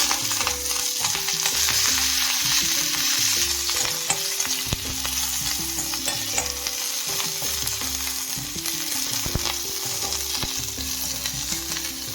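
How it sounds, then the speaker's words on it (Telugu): A tempering of mustard seeds, urad dal, cumin, dried chillies and curry leaves frying in hot oil for sajja idli, a steady close sizzle with frequent stirring scrapes and small pops throughout. "ముందు ఆవాలు వేసుకుని, తర్వాత మినప్పప్పు వేసుకుని, తర్వాత జీలకర్ర, ఎండుమిర్చి,"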